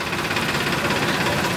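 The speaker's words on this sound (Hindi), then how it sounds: "फार्म ट्रैक 45 आज ही बिका है, नया ट्रैक्टर, बहुत शानदार ट्रैक्टर है।" A new Farmtrac 45 tractor engine runs at a steady idle, a close, loud, even rumble with a fast knocking pulse.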